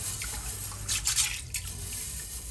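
Soaked food ingredients being rubbed and rinsed by hand in water, with light sloshing and dripping splashes, close and fairly quiet in a brief burst.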